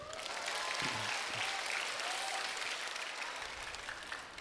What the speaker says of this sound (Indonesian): Tepuk tangan buat Roy aja nih.